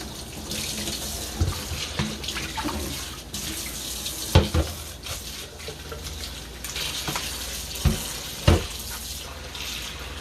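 Cold water runs steadily from a kitchen tap into a sink while fish is being cleaned, giving a continuous broadband splash with a few louder knocks and clatters along the way.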